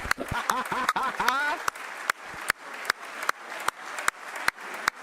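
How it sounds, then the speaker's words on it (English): Crowd applause in a chamber during a State of the State address, with one sharp, loud clap repeating steadily near the microphone above the general clapping and voices talking over it. "that clap from Beckwith is killer. Get it away from the mic"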